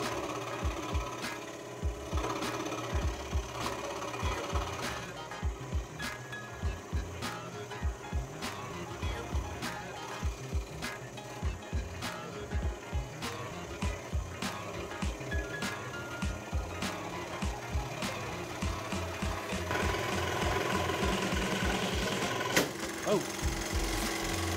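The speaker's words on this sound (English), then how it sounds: "I'm going to try to use that to cut this piece" A scroll saw cuts a wood piece with a steady, rapid buzzing chatter that runs nearly throughout, growing louder toward the end, with brief sharp clicks over it.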